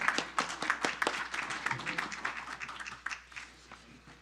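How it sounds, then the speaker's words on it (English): Applause at a city council meeting: a crowd claps in a dense patter of sharp, moderately loud claps that gradually thins and fades over about four seconds. "let's give them a round of applause"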